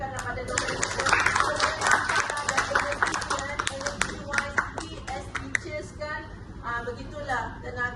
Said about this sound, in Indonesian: Okay, bagi tepukan kepada dokter.